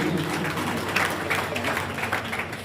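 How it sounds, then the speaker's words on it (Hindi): Applause from an award-ceremony audience for three honoured students, a fairly loud, continuous spread of clapping with some murmuring voices mixed in. "तीनों के लिए आप जोरदार तालियां अर्पित करेंगे"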